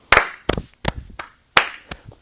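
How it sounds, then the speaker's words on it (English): Sharp hand claps in a rhythm exercise for a third grade class, about six crisp claps in an uneven pattern, close and loud, with no voices. "watch for that clap if you need help"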